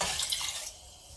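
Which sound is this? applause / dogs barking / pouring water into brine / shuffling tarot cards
pouring water into brine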